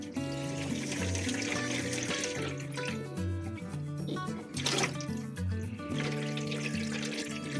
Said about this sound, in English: let's get some cold water through